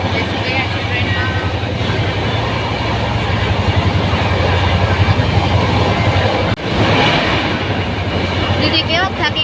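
From inside a moving passenger train, a loud steady rumble mixes with rhythmic wheel clatter, and people talk over the ride.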